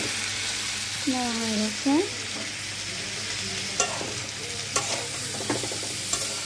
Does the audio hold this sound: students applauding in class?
no